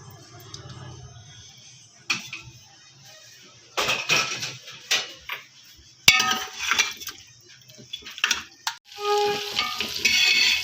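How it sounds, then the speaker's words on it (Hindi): Chicken pieces drop into hot oil and fry for a winter chicken soup, with scattered clinks and stirring knocks before the sizzle swells into a loud, steady hiss. "अब हम इसमें यखनी अपनी ये सारे पीसेस डाल के इनको फ्राई करते हैं"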